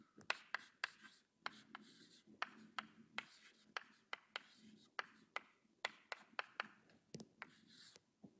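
Chalk or marker strokes tapping and scraping on a board during a convex optimization lecture, a quiet irregular run of short ticks and scratches with no speech, faint room rumble beneath.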